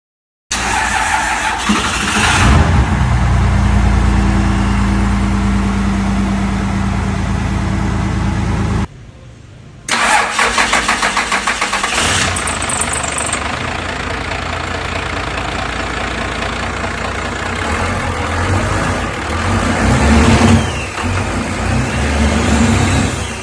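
A 12-valve Cummins diesel fitted in a 1974 Jeep J20 cranks, catches and idles loudly up close, with a brief cut partway through before it settles into a steady, knocking diesel rumble.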